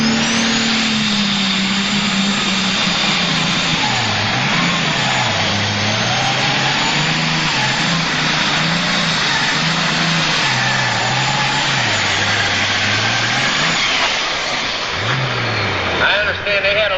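The International 1466 super stock pulling tractor, rated at about 2,400 horsepower, roars loud and continuously at a tractor pull in Ionia, Michigan, its pitch rising and falling. An announcer talks over the engine throughout.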